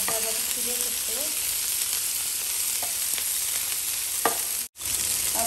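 Red chili sizzles steadily in hot oil in a pan while it is stirred, with light scraping of the utensil over the constant frying hiss.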